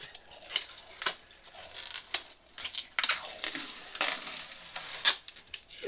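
Protective plastic film being peeled off a new kitchen backsplash, a series of dry crinkling rips and crackles coming in uneven bursts, fairly close and moderately quiet.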